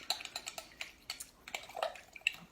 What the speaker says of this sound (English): we're just going to stir it